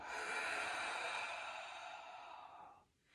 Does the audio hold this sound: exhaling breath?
yes